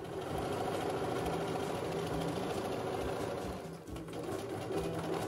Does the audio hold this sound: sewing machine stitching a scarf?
yes